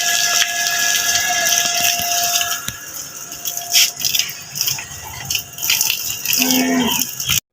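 Water runs from a tap valve, rattling and gushing steadily while a cow drinks from it outdoors, with faint knocks and a brief low tone near the end.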